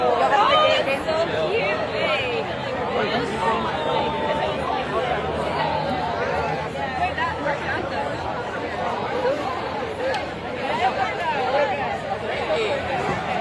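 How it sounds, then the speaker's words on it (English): A large university crowd at the University of Pennsylvania reacts loudly to protesters, with dense, continuous babble and overlapping shouted voices sustained at high volume throughout. "this is the most remarkable crowd reaction we've yet seen on this tour"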